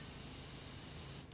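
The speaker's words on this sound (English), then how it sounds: "Could technically spray from the other side." A power washer in the Power Wash Simulator video game sprays on a subway platform with a constant, close, loud hissing rush, then stops abruptly at the end.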